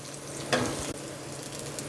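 Onion and garlic frying in hot oil in a pan, giving a dense, constant sizzle with a brief louder burst as the pieces are stirred.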